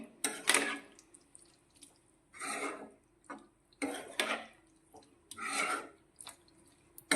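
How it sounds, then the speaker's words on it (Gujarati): Potatoes stirred and sautéed in a curry gravy in a pan, heard as a few separate scraping, sizzling bursts of stirring with short quiet gaps between them, close and fairly soft, with no voices. "2 મિનિટ માટે આ રીતે આપણે તેને મિક્સ કરીને સાંતળીશું"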